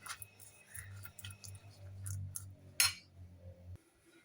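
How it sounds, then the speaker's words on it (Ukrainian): A spoon scrapes and clinks softly against a dish as mayonnaise is spread while making shawarma, with small wet smears and one sharper clink. "Розмастимо ложкою так."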